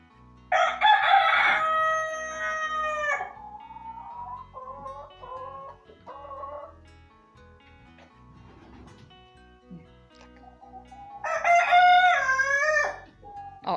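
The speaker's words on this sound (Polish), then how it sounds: "A to kurczaki." A rooster crows loudly and close at the start and again near the end, with softer chicken clucks and calls in between, heard outdoors on a drizzly day.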